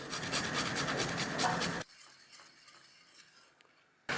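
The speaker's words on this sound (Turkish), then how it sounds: "Bir diş sarımsağımızı direkt yağın üzerine rendeleyeceğiz." Garlic clove rasped on a grater straight over hot oil for a Turkish green bean dish, a quick rhythmic scraping for under two seconds, then near-quiet with faint ticks and a last abrupt burst.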